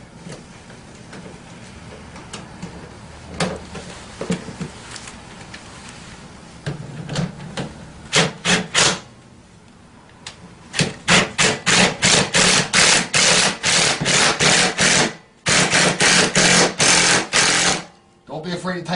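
A wrench tightens bolts on a Tao Tao CY150A scooter during assembly, making rapid ratcheting bursts that start sparse and grow into dense, loud clicking runs, close by, with a voice talking at points.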